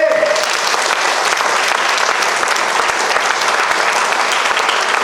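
Seminar audience clapping with their fingers to imitate falling rain, a dense, even patter of many small claps that continues without a break.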